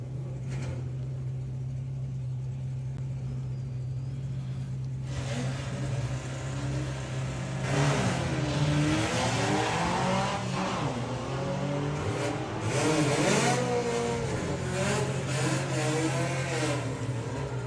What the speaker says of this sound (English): Steve Metcalf with the Blue Steel Baja